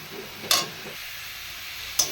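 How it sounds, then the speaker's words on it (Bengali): Leafy greens fry in a pan on a home stove, a low, steady sizzling hiss broken by two sharp clicks of a spatula against the pan. "শাকটা প্রায় ভাজা ভাজা হয়ে এসেছে"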